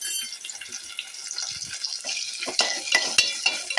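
Onions with salt and curry leaves sautéing in a pan, a quiet hiss joined by scraping stirs and utensil clinks that grow louder toward the end.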